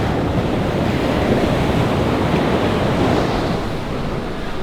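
Waves roll and break against a high-tide beach under storm clouds, a steady loud wash of surf with wind buffeting the microphone throughout, no voices.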